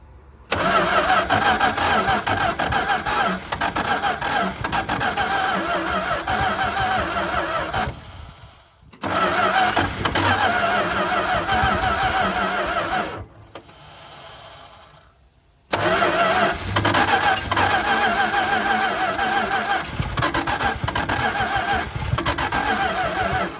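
A 1969 Dodge D-100 pickup engine cranks and catches in loud, sustained bursts, cutting out twice and restarting each time, with no voices present.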